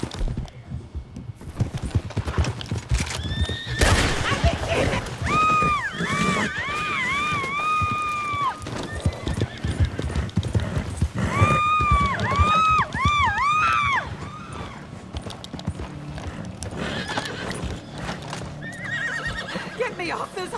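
Horse whinnies ring out repeatedly in Red Dead Redemption 2, high wavering neighs over clopping hooves and a busy game soundscape, with voices and crowd-like noise underneath.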